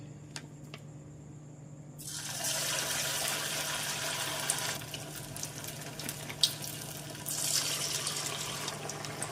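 Shaped lentil vadas dropped into hot oil burst into a steady, hissing sizzle that starts suddenly and continues with a faint crackle nearby.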